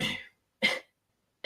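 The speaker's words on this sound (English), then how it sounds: "Don't be coughing in people's ears." Three sharp, close coughs come in quick succession with short silent gaps between them, loud and near the microphone.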